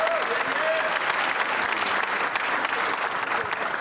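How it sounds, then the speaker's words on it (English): Loud, sustained audience applause at a district community meeting held by a city mayor, continuous and full throughout, with faint voices mixed into the crowd noise. "Let's give him a round of applause."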